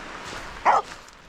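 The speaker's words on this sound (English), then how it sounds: "And look how wet that dog is." A wet dog on Newborough Beach on Anglesey gives one short, fairly loud bark, heard once over quiet outdoor background.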